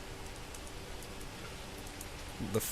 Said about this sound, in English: Oh, it's going to start rain.